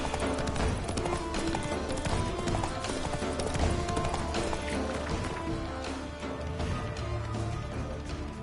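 A horse gallops with steady, rhythmic clip-clop hoofbeats in the video game The Witcher 3, continuous and loud under a dense layer of game music and ambience.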